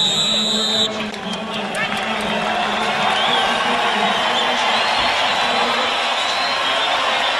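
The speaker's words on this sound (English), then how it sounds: "Crowd rises to applaud what they've seen so far" A boxing arena crowd rises to applaud and cheer between rounds, a sustained dense roar of clapping and voices after a brief whistle, with a commentator talking over it.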